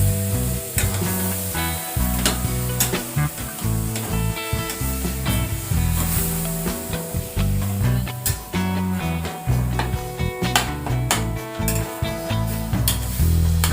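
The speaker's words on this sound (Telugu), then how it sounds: "ఒక 5 మినిట్స్ సూజీ రవ్వలో ఈ మ్యాంగో పల్ప్ మొత్తం కలిసేలాగా కుక్ చేసుకోవాలి" Semolina and mango pulp cook in a pan while a spoon stirs and scrapes through the thick mixture, giving rhythmic scraping and soft sizzling, close and fairly loud, with no talk.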